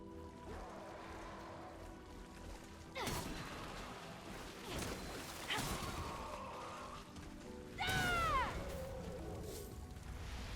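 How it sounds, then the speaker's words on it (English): Gunshots in the video game Remnant: From the Ashes sound as a few sharp cracks with ringing tails spread over several seconds, set against quieter game mechanisms and ambience. "Gunshots."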